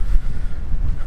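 Wind buffets a microphone outdoors in wet, windy weather, a loud continuous low rumble and roar with no voices.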